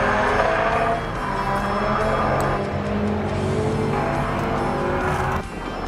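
A race car with a slipping clutch runs on the Croix-en-Ternois circuit, its engine note rising and falling through gear changes and passing noise, fairly loud with no talking.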